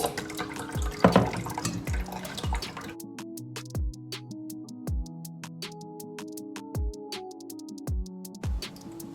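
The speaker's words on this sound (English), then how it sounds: "you can strain as often as you are comfortable, that there is no particles in your juice" Pineapple, mango and carrot juice drips through a strainer, first as a steady pouring trickle, then as slow, regular separate drops falling close by with quiet gaps between them.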